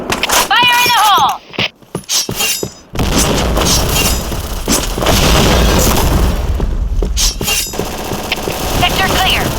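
A grenade detonates in the shooter game Point Blank with a loud, heavy boom, followed by dense crackling combat noise and gunfire. A short radio-style voice call comes just before it.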